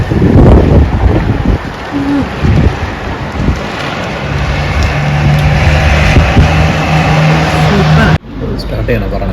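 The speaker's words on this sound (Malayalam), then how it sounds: "സ്നോഫോളും മഞ്ഞ എല്ലാം ഉണ്ട്. നല്ല കാറ്റുണ്ട്." Strong wind buffets the microphone outdoors during snowfall in Baku, a loud, steady roar with gusty low rumble that cuts off abruptly near the end.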